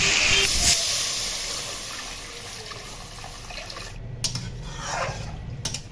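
Water poured into hot mustard oil in a pan for a hilsa fish curry, starting with a loud hissing rush that settles into a softer steady bubbling simmer, close up.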